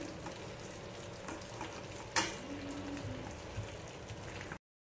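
Potato chops fry and puff in hot oil, a soft, close bubbling sizzle with faint scattered pops and one sharp crackle near the middle before the sound cuts off abruptly; no voices.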